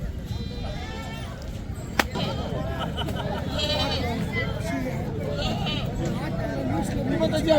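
Goats bleat repeatedly at a weekly goat and buck market in Kalamb, Dharashiv district, their calls rising over a steady crowd hubbub with people talking nearby throughout.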